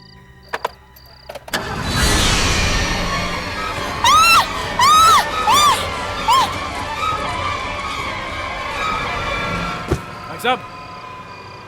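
A car engine cranks and catches about two seconds in, then keeps running with a steady rumble. Urgent voices break in over the engine several times.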